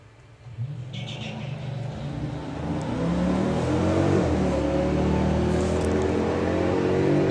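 A 6.1 Hemi Jeep and a 5-litre Mercedes drag race, engines rising from a quieter idle into a steady, loud accelerating roar that holds to the end.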